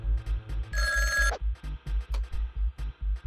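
Telephone ringing in the video game Jazzpunk: a bright electronic ring burst sounds briefly over a steady pulsing, thumping game soundtrack, loud and close, then the music carries on alone.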